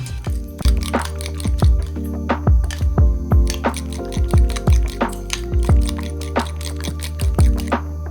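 Liquid candle wax is whisked briskly for a rakı-style candle, giving a steady run of wet splashing clicks and clinks against the container.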